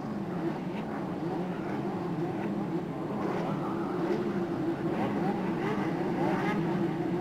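Race cars at the start of the Fuji Masters 250 km, the final round of the Fuji Grand Champion Series at Fuji, a dense continuous roar of many engines, with a commentator talking over it.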